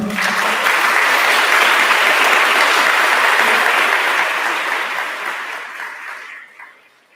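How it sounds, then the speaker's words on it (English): Dense, sustained applause from an audience at a school awards and recognition night honoring retiring staff, loud and steady before tapering off at the end. "Let's give them a round of applause."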